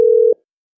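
A single short electronic tone from a phone call, a busy signal cut off after about a third of a second, loud and clean with silence after.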